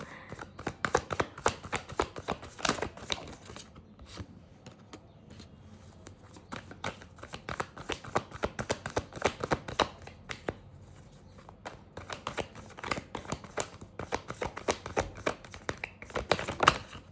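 Playing cards are shuffled again and again, a rapid rhythmic run of crisp riffling flaps in clustered bursts with short pauses, up close and without talk.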